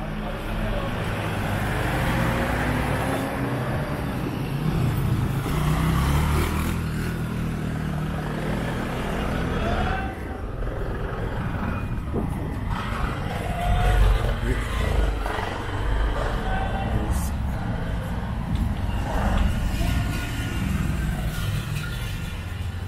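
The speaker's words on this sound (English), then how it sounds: "A very narrow street, and a lot of cars are entering here." Cars squeeze one after another into a narrow street near Tikal, Guatemala, engines and tires rumbling close by in a continuous stream of traffic, with occasional voices underneath.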